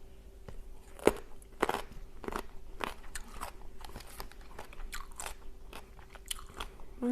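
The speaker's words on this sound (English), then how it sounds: "I do really love celery" Raw celery with a dill dip is bitten and chewed up close, giving sharp irregular crunches over a quiet background with no talking.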